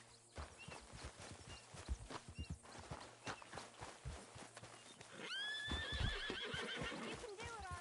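A horse in the PS4 game Red Dead Redemption II whinnies loudly and its hooves clop along, set under game character dialogue with a long, shrill neigh near the end.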